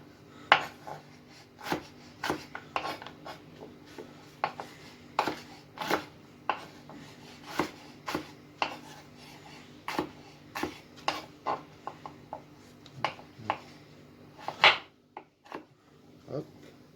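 A knife cuts veal into small sticks on a cutting board, giving a series of distinct, close chopping knocks at an irregular pace, about one every second, over a quiet background.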